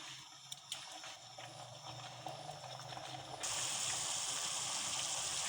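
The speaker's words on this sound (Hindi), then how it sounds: "अब ये देखिए पानी में उबाल आ चुका है" Water comes to a boil in a cooking pot for chickpea curry and rice: a low bubbling with small clicks and clatters, which then swells into a louder, steady hissing rush, heard close.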